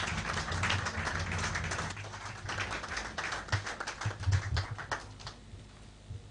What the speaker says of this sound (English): Shall we all give him a round of applause?